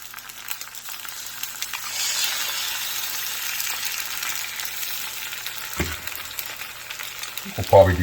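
Eggs sizzle and fry in a big skillet, a steady hissing crackle that holds for several seconds, with a couple of louder clunks near the end.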